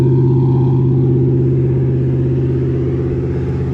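A BMW i8 with a Maxhaust active sound exhaust revs loud and close, a deep, steady, buzzy engine drone that stays strong for the whole stretch with no talk.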